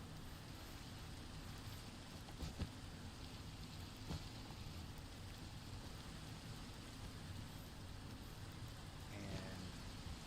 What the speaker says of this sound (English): Okay, it's just rain